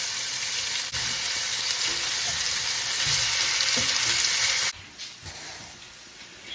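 Chicken fries steadily in a pan on medium heat with a loud, continuous sizzle and light stirring, then the sizzle drops in level near the end.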